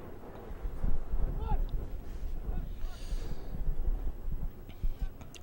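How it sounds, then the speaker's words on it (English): Strong wind gusts across an outdoor soccer field in Lancaster during a youth state cup final, buffeting the microphone with low rumbling bursts that rise and fall throughout. "very windy out here in Lancaster. And it's not letting up."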